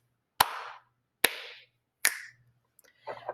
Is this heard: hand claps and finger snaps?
yes